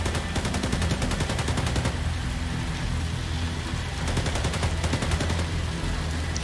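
Rapid automatic gunfire from the video game Tom Clancy's The Division 2 crackles in dense bursts at the start and end, with a steady noisy bed throughout and no talking.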